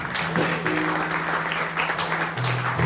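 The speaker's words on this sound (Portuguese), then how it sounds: "Você pode aplaudir a Jesus, amém, igreja?" Church congregation applauding at a youth retreat, a steady wash of clapping from many hands with a low sustained hum running beneath it.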